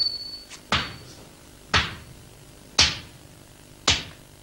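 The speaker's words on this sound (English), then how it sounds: "After the folding, the lump is beaten into its final shape." A swordsmith hammers a lump of folded steel into a Japanese sword blade, four heavy, evenly spaced blows landing about once a second, each ringing sharply before fading, with a faint metallic tone at the start.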